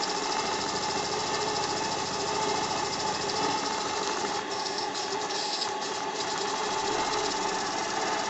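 An AL5 model steam engine runs on a table and vibrates heavily, giving a steady, fast mechanical chatter that continues without a break and sounds close and even throughout.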